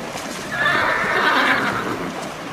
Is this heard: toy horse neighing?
yes